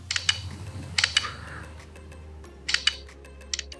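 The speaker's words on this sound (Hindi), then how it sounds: "ये हैसेलब्लैड वाला खचाक है" Camera shutter sound effect of a OnePlus smartphone with Hasselblad camera, a few crisp short clicks in pairs, close and fairly quiet, repeated several times against a faint steady hum, with no talking.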